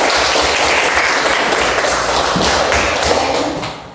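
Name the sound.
applause for Afriska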